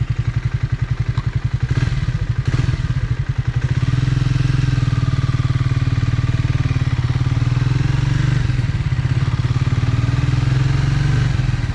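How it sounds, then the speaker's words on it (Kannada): A Triumph Speed T4 400cc motorcycle engine runs loudly nearby, a steady deep rumble with rapid pulsing beats, briefly revved at first before holding an even idle. "ಇಂಜಿನ್ ಸೌಂಡ್ ಸೂಪರ್ ಆಗಿದೆ."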